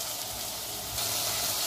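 Ingredients frying steadily in a pan, a continuous soft hiss of sizzling oil that grows slightly brighter and louder partway through, with no voices.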